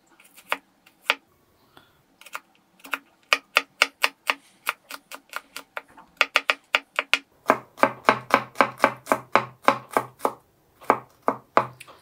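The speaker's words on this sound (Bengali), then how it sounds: "রসুনটাকে একদম কুচি করে কেটে নিতে হবে।" Garlic is chopped finely with a knife on a board: sharp, close knocks, sparse at first, then a fast steady run of even strikes, with no talk.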